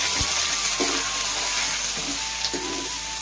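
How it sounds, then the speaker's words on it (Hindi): Bay leaves and onion frying in hot oil for a mushroom curry, a continuous soft hiss with a few brief clinks and stirring touches, fairly steady and close. "गरम हो गई तेल है संगवारी तेज पत्ती और प्याज अच्छा से भुनाएंगे"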